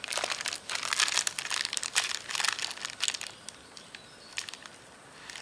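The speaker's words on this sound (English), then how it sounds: "pull down the tape" Adhesive tape being pulled away from a small motor shaft on a Fusion 50, giving a run of close, crackly tearing and crinkling bursts that taper into fainter peeling sounds, with no talking.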